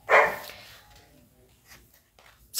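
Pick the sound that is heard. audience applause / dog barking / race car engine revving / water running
dog barking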